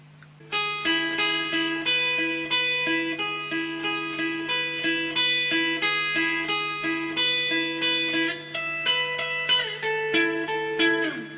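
Clean-tone electric guitar plays a song intro, a continuous run of picked, ringing notes and chord tones in a steady, even rhythm over a faint amp hum, close and clear.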